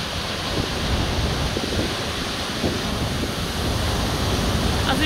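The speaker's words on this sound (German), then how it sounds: "dass das Meer übelst laut ist" A stormy sea churns loudly at a closed beach, a continuous dense roar of surf and wind filling the whole clip with no clear breaks and no speech.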